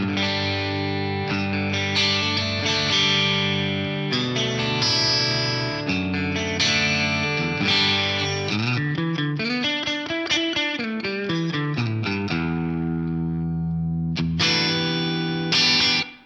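Clean electric guitar chords and single notes ring out with a lush plate reverb tail, sustained and bright, played alone.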